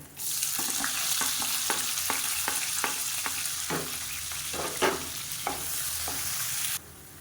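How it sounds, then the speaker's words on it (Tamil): Sliced onions fry in hot oil with fennel seeds and curry leaves, a steady close sizzle broken by a regular series of sharp spoon-stirring scrapes against the pan, with no talking. "இப்போ வெங்காயம் இந்த அளவுக்கு நல்லா பொன்னிறமாக வறுத்துக்கோங்க"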